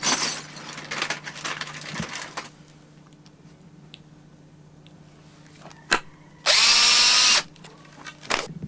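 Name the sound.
drill driving a sharp wood screw through a bottle cap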